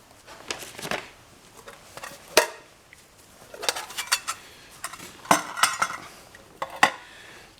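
Metal clanks and clinks of a military mess kit pot and fry pan being handled, a series of sharp irregular knocks and scrapes, close and fairly loud with quiet gaps between.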